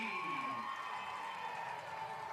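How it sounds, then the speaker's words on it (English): A home crowd at a college football game in the Golden West Rustlers vs Orange Coast College Bell Game, cheering steadily from a distance, a faint sustained roar of voices. "the home crowd has a little something to cheer about"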